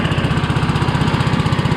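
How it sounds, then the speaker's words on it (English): An engine runs hard under load while driving a large alternator that charges batteries, with a fast, even, chugging pulse held steady throughout, close and loud. "that one big alternator is working that engine pretty good."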